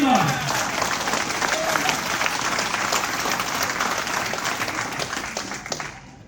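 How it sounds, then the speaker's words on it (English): An audience at an annual union mine workers' cookout in Castlewood, Virginia, breaks into loud, steady applause that fades out over several seconds. "Give her a round of applause."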